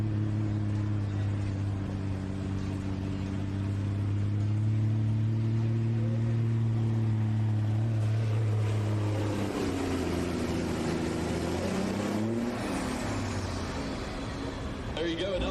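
Kenworth truck engine roaring at a county fair truck and tractor pull as it drags a sled, a loud steady drone with shifting pitch, then revving higher near the end, with crowd noise and an announcer underneath.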